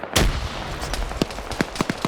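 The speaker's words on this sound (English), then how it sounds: "Look at that grenade throw." Grenade bursting during an Arma PvP firefight: one sharp blast at the start, then a run of scattered gunshots cracking at mid distance.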